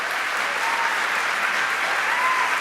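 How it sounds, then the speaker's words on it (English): A graduation audience at a master's ceremony breaks into steady, dense applause, many hands clapping continuously and evenly loud throughout, with no voices rising above the crowd. "give them a round of applause"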